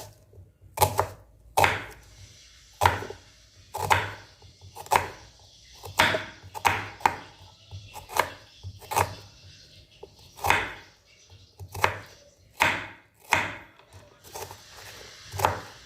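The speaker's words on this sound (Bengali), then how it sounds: "তো এগুলো একটুখানি এরকম করে কুচি কুচি করে নেবে" Vegetables chopped finely with a knife on a board for pasta, a steady series of loud, close knife thuds at a slightly uneven rhythm, with no talk.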